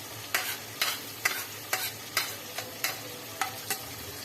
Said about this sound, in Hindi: अब इसको हम करेंगे बहुत अच्छे तरीके से फ्राई।